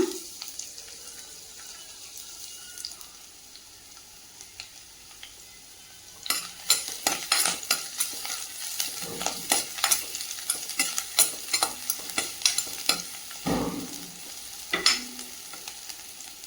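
Crushed garlic cloves frying in a pan for manathakkali soup: a faint low sizzle for the first few seconds, then louder, busier stirring with repeated scraping clicks and bursts of crackle close by.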